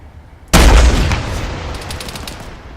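Gunfire in the video game ArmA Cold War Assault: a sharp, loud shot bursts out after a brief quiet moment, followed by a rolling burst of further rapid shots and echoing reports that fade gradually.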